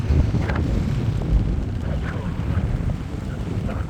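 Strong wind buffets the microphone during a bike ride, a constant low roar and rumble, gusting steadily throughout with no talking.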